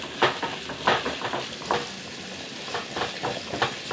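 Garlic, ginger and onions fry in a pan, sizzling steadily while a utensil stirs them in repeated scraping bursts roughly every half second, close and moderately loud with no talking.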